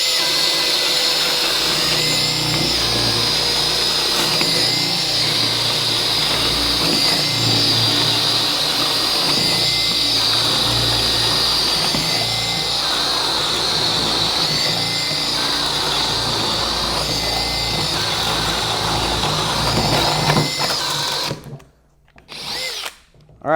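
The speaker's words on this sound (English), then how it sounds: "Chuck was using a conventional bit, and it had a hard time penetrating through the different layers of material" A power drill with a conventional bit grinds through triple-stacked 3/4-inch plywood, a loud, steady whine that holds for about twenty seconds and then stops abruptly, followed by a few brief bursts.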